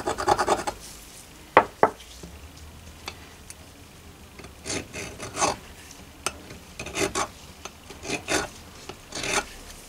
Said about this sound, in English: No scales through scratching.